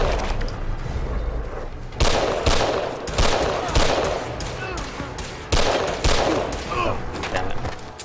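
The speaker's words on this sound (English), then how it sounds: "The problem is the recoil on the submachine gun is so high." Rapid bursts of submachine gun fire in Fallout 4, several loud volleys in quick succession with short pauses between them, dense and sharp, no talking over it.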